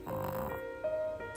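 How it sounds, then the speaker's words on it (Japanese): A chihuahua snores in a few soft, wheezy breaths close by, each with a faint whistling tone, the sounds running into one another across a short stretch. "いびきですかあなた。"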